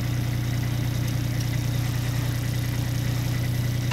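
A 2012 Ditch Witch JT5 directional drill's engine runs at a steady idle, a constant loud low hum and vibration with no talk over it.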